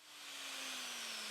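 A drill bores a hole in brittle acrylic for an O gauge model baggage car base, giving a steady, close whine over a dense hiss that holds without a break.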